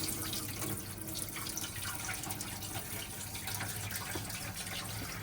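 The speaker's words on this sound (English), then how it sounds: "We'll have hot water running through all the taps." Water runs steadily from a caravan sink tap into the sink, a continuous splashing flow with faint drips and clatter, no talking.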